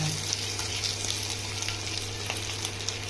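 Curry leaves frying in hot oil in a pan for ridge gourd peel chutney, giving a steady close crackling sizzle with small sharp pops throughout.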